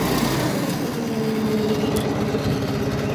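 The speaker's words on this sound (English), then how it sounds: "we can safely turn off the tractor" A Farmall 350 tractor idles close by, its engine giving a steady, low, rumbling chug that never lets up, loud and alone with no voices.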